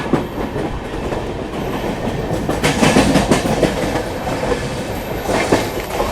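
Train pulling out of Surat station alongside the platform, with steady loud rumble and rhythmic wheel clatter on rails throughout, rising in intensity midway, no voices.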